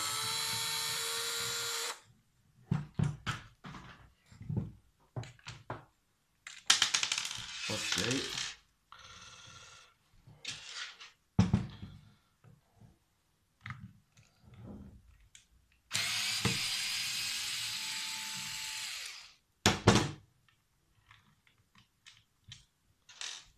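A power drill with a long bit unscrews fasteners while a Parkside PSTD 800 B2 jigsaw is taken apart. Several loud, close whirring bursts alternate with clicks, part handling and quiet pauses.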